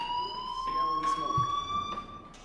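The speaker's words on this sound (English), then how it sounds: "do you hear that fire alarm?" A fire alarm in Life Is Strange rings with a steady, piercing electronic tone throughout, while a voice speaks briefly underneath it.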